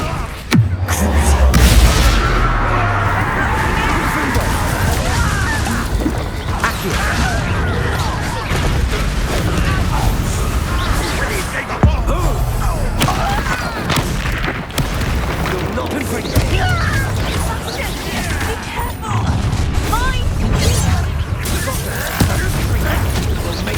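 A Bombarda blasting spell detonates in Hogwarts Legacy with a loud boom at the start, followed by dense, continuous battle noise of crashes and bangs under shouted speech.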